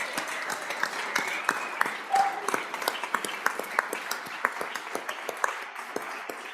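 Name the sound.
legislators applauding in the House chamber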